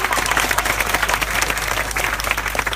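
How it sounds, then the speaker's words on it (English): Loud, dense applause from a crowd at a youth congress in Croydon, a sustained roar of many clapping hands with cheering mixed in throughout. "Can we give her another round of applause?"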